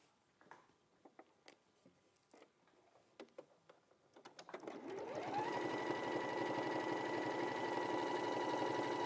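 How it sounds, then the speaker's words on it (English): A sewing machine stitches a folded-over hem on a sleeve and bottom edge; a few light taps and clicks come first, then the motor kicks in around halfway and runs in a steady, close, continuous whir to the end. "I will sew folding over and then sew cross over first"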